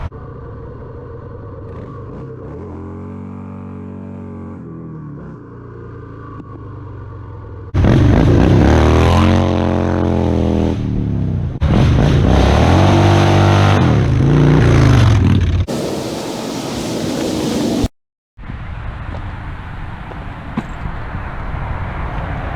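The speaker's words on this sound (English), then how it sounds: "We'll do some rolling burnouts and hopefully you guys like it." A Harley-Davidson FXST motorcycle revs hard during rolling burnouts, with a loud, deep engine rising and falling in pitch over several long bursts, then cutting off before an idle rumble returns.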